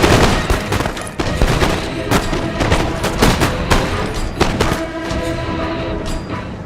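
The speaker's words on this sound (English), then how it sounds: "light infantry has started to exchange skirmishing fire with two enemy sharpshooters" Musket skirmishing fire in a video game battle, light infantry trading shots with enemy sharpshooters: a dense, steady crackle of many sharp reports overlapping throughout, with no talk.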